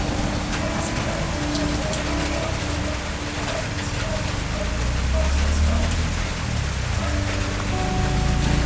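Steady rain falls on a rural afternoon, a dense broadband hiss that runs the whole stretch with faint scattered drops and a low rumble underneath, while voices murmur quietly in the background.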